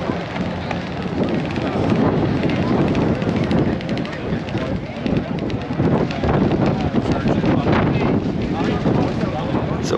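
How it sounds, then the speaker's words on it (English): Strong desert wind buffets the microphone continuously at a crowded off-road racing event in Johnson Valley, a loud, gusty roar filling the whole stretch with no break. "It's a windy day today"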